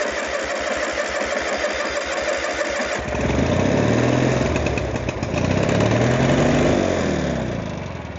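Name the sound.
Gravely PM300 Pro Master lawn mower engine starting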